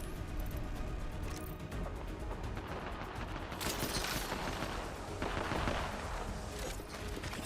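Rapid, sustained gunfire from an Apex Legends PC custom match, a loud, dense stream of overlapping shots that surges and swells throughout with no break.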